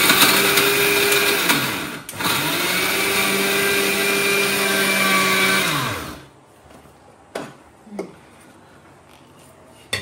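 Kitchen mixer grinder grinding jaggery, peanuts, sesame and cardamom, a loud steady whine that dips briefly near two seconds, runs again, then winds down around six seconds, followed by a few short knocks and quiet.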